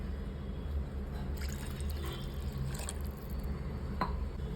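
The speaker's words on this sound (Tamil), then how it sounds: "2வது கிளாஸ் தண்ணி சேர்த்துக்கிறேன்." Water is added to a pot of Tamil pirandai kara kuzhambu, a tangy tamarind curry, with soft splashes and drips, a few brief spatters standing out over a low, quiet background.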